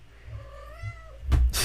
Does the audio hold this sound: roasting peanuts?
no